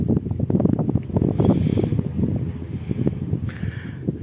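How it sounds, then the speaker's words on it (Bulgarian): A light wind blows at a seaside beach on a sunny day, buffeting the microphone in low rumbling gusts that rise and fall continuously, with faint surf-like hiss behind and no talking. "леко подухва вятър"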